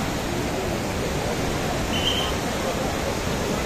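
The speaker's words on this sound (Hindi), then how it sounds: "पानी का तेज जो कितना तेज चल रहा है" Fast-flowing mountain river near Badrinath in Uttarakhand, a steady broadband rush of water that stays even and close throughout, with no talk over it.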